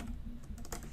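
Quick, soft keystrokes on a computer keyboard as a field name is typed, a short cluster of close clicks over a steady low background hum, no speech.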